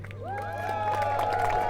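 A crowd cheers at a jousting tournament at Leeds Castle in Kent. The voices swell into a steady, rising roar that stays at a distance.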